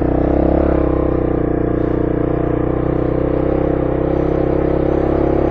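Motorcycle riding through a flooded stretch of gravel road, a loud steady engine drone held at constant revs close to the rider, with no clear splashing standing out.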